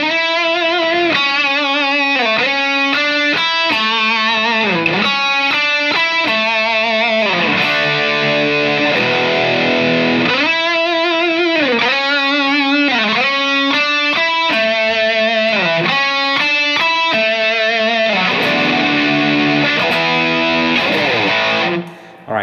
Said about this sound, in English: Again, those two guitar parts are played at the same time.